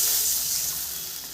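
Water poured into a pan of frying mustard fish curry makes a brief, steady rushing splash with a hiss that fades slightly over a second or so.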